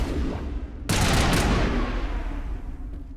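Gunfire from a weapon in the video game Mass Effect, a sudden dense burst of shots that starts loud and rings on over a steady low game ambience.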